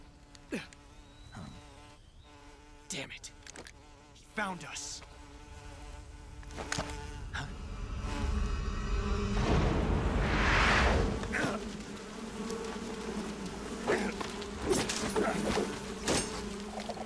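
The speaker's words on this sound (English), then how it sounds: "Yes, spin the bees away." Bees buzz in the video game Metal Gear Solid 3 Snake Eater, a continuous insect drone that swells in the middle, punctuated by sharp clicks and in-game effects throughout.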